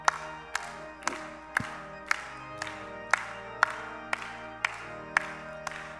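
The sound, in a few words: congregation clapping in church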